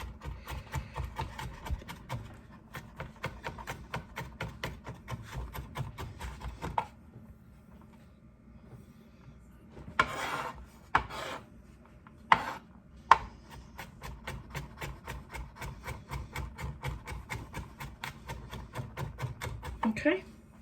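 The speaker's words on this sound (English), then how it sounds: "Let's finally chop this up." A knife chops mushrooms on a cutting board for a Parmesan mushroom risotto: quick, even, steady strokes, then a pause broken by a few sharp isolated chops before rhythmic chopping resumes, with a voice talking briefly.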